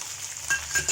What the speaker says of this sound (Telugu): అల్లం వేసుకొని మళ్ళీ కొద్దిసేపు వేయించాలి